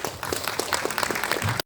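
Audience applause welcoming a speaker onto the stage at a Gangnam urban planning presentation, a brief, dense burst of many hands clapping that cuts off abruptly.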